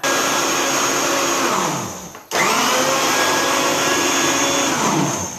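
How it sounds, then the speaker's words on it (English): A food processor chops onion for salsa verde with a loud, steady motor whir. It cuts out briefly partway through, then restarts and runs on at full volume. "Once I figure out how to work the food processor."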